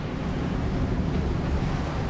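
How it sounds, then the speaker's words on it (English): Broad steady wash of big wake waves from a passing boat rolling past a sailboat under way, with wind buffeting the microphone, continuous and fairly loud, no voices. "Big waves from this guy."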